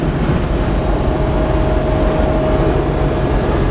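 Steady, loud road and engine noise fills the inside of a 1999 Dodge van cruising down the road at about 60 mph, a continuous broadband rumble with a faint steady whine and no speech.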